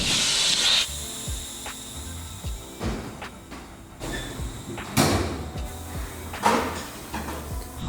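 Air suspension on a 1962 Chevy C10 stepside truck lets out a sharp hiss of escaping air at the start, followed by scattered clunks and knocks as the frame settles onto a chassis table.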